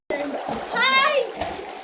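A child leaps into village water in summer and lands with a splash, while children's voices and shouting carry over the watery spray and a short vocal cry.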